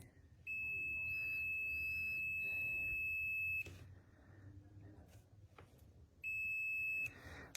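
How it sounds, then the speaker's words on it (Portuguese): A digital multimeter's continuity test beeps when its two probe tips touch: a steady high-pitched electronic beep holds for about three seconds, stops, then sounds again briefly, with faint background noise between. "na hora que eu juntar as duas pontas, ele tem que zerar e apitar"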